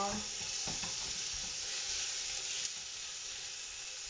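Ground beef sizzles and fries in a pan on a gas stove, a steady broad hiss with faint scraping and stirring clicks as the meat is broken up, continuous and close.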